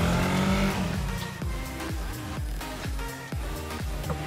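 An RC car driving a twisting gymkhana course at a motor sport park, its small motor revving up and down in repeated quick bursts with tire noise, steady and fairly near.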